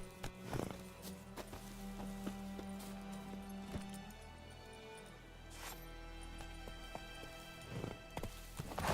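Roach the horse gallops in The Witcher 3 video game, hooves clip-clopping in a steady rhythm over a continuous low game ambience, with a few louder thuds and no talking.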